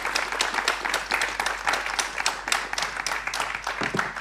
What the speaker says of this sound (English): Please welcome with a little applause.